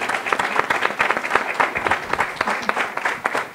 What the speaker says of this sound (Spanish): quiero aprovechar el momento para pedir un aplauso a todos los que crearon Viajeros del Pentagrama